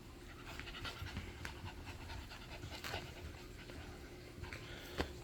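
Eight-week-old puppies pant steadily and quickly at close range, a soft continuous breathy rhythm with a few small yelps and bumps, and no one speaking.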